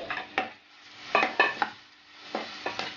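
Poha flakes being stirred into hot jaggery syrup in a pan, giving a few separate scraping and rustling strokes with soft sizzling between them, close by and moderately quiet, with no talking.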